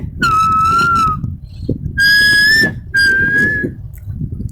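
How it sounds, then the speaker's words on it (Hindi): A person whistles a cheerful melody in three sustained phrases with short pauses between them, loud and close over a low rumbling background, as an effect in a crime thriller story. "तो वो सीटी बजाते हुए"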